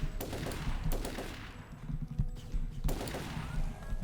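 Gun bursts in Turok 3: rapid clusters of close, punchy shots fire in quick repeated volleys, with a pause midway before another burst, over busy game ambience.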